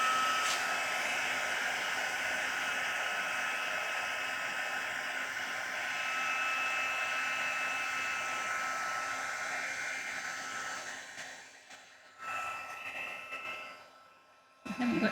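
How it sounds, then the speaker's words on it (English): A heat gun used for stamped landscape papercraft in a craft room blows a steady, loud airy whir for about eleven seconds, then cuts out with a few brief bursts and handling noises near the end. "And we will grab the heat gun."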